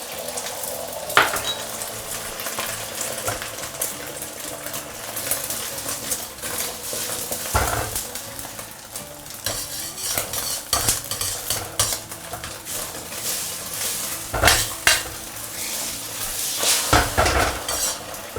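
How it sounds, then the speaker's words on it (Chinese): Beaten egg frying in hot oil in a wok with no salt yet, a steady sizzle broken by a few sharp spatula scrapes and clinks against the pan, close and alone with no talk. "一定把这两面给它煎黄"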